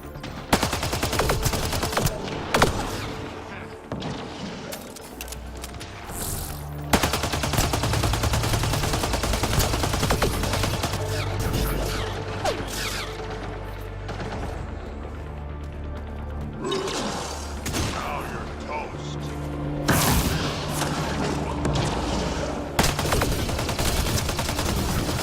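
Sustained gunfire in the sci-fi shooter Mass Effect: Andromeda, with rapid bursts and repeated shots layered over a dense battle din and low rumbling, loud and continuous throughout with brief pauses between volleys.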